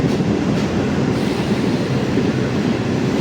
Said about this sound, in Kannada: ಬೆಳಿಗ್ಗೆ 7:06ಕ್ಕೆ ನಮ್ಮ ಟ್ರೈನ್ ಬಂದಿದ್ದೆ